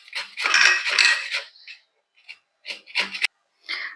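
Raw green mango scraped across a metal grater for pickle, a bright, gritty rasping in quick bursts of strokes separated by short pauses, close and fairly loud.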